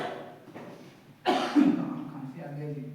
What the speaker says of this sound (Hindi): खांसी आ गई जी।